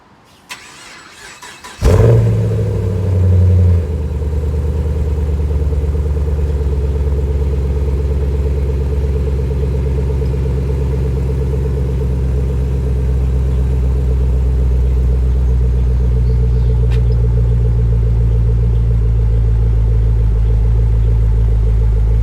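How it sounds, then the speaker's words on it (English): Chevrolet Camaro SS with a Borla exhaust fires up from cold: a short crank catches around two seconds in, then a deep, loud, steady burbling idle rumbles on alone for the rest of the clip. "The Camaro has a borla exhaust on it, so it should sound pretty damn good."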